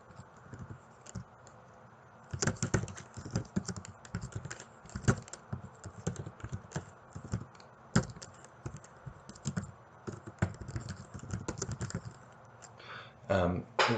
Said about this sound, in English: I'm typing it for you.